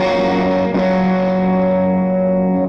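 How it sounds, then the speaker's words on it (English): An overdriven electric guitar rings out a sustained, gritty chord through an AB763-style amp's drive channel, loud and distorted, fading slightly toward the end. "It's already breaking up more than the clean channel was."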